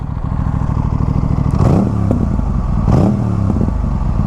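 An Aprilia RS 457 motorcycle with a GPR exhaust, dB killer fitted, idles with a rough, burbling exhaust, then revs up sharply twice, each rev rising and falling back to idle, loud and close.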